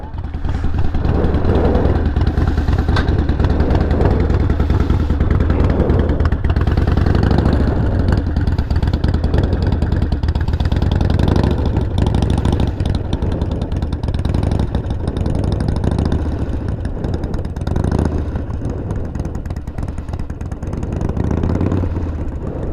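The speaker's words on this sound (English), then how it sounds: "He's going to use his friction zone to modulate how much power is being provided to the rear wheel." A motorcycle pulls away from a stop and turns while the rider works the clutch friction zone, its mid-pitched engine running loud and close with uneven throttle and a rattling idle throughout.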